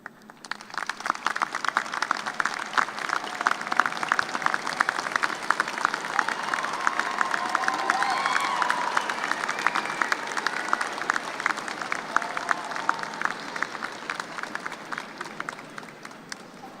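A commencement crowd at a spring graduate school ceremony gives a long, steady round of applause for family and friends, dense clapping building and holding for over fifteen seconds before fading at the end.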